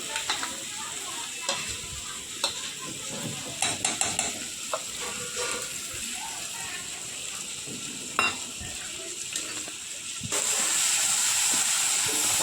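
Pabda fish curry with chilli powder and poppy seed paste being stirred in a hot pan, a steady close sizzle with irregular scraping and clinking stir sounds, ending in a louder steady hiss.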